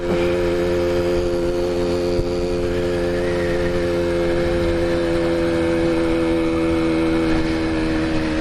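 An old two-stroke motorbike out on a ride, its engine droning steadily and loudly close by, with a buzzing, even tone that holds throughout without a break.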